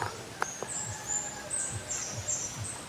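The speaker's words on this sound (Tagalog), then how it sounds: "Marami kami na dinig na busis ng ibon." Several birds call in a forest near Dapitan City, with a soft, repeated high chirp and thin whistles over a quiet, faint background.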